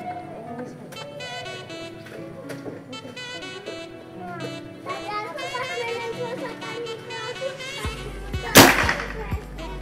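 Sharp broadband crack of a PCP air rifle shot near the end, heard after ongoing background chatter and outdoor activity, with a brief burst standing out loudly.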